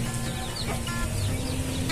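Gamecock chickens clucking close by, soft repeated clucks over a constant low background hum, brief and fairly quiet.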